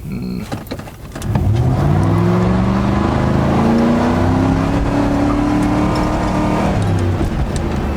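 A Ford Crown Victoria with cheap backyard bolt-on modifications launches hard from a standstill, its engine note climbing steadily in a loud, close, sustained roar for several seconds before easing slightly near the end.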